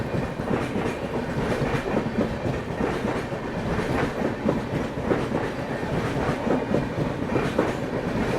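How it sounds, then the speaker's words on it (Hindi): A WAP-7 electric locomotive hauls a passenger train, its wheels beating a steady clickety-clack on the rails under a continuous loud rumble for the whole stretch, with no voices. "वैप 7 का एक्सेलरेशन सुनिए आप,"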